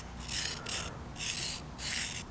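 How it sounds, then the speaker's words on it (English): A carbide router bit is rubbed flat-side down across a sharpening stone in three steady rasping strokes, each roughly half a second long with short pauses between, close and clear with no talking. "set the flat side of the router bit against that stone and then sharpen away"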